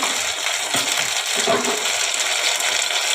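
Ginger paste fries in a pan for mugeshwari muri ghonto, a steady hissing sizzle with a few soft stirring scrapes, close and fairly loud, with no voices over it.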